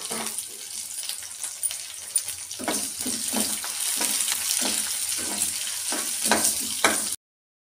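Sliced onions with curry leaves, chana dal and urad dal frying in oil in a pan for an agastya leaf and flower fry, a steady close sizzle with repeated scraping stirs and clinks, no voices.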